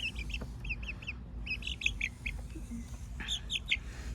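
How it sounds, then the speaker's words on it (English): Meat turkeys gobble in short, bubbling bursts, several rapid calls in clusters with brief pauses between, fairly close over a low background hum. "These are meat birds, meat turkey."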